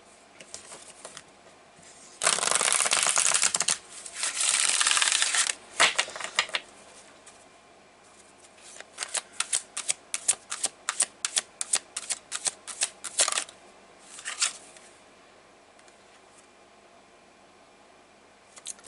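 Power to Surrender oracle cards from Hay House being shuffled, two long dense bursts of riffling followed by a quick run of crisp, rhythmic card taps and slaps, close and fairly loud with no talking.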